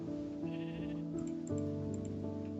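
Sheep in a video game bleat over and over, several wavering calls in close succession, loud and near with no talk.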